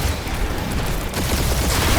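Turrets fire in Guardians of the Galaxy, a dense, continuous barrage of rapid shots and low booms that stays loud throughout and thickens after a short dip, with no talk over it.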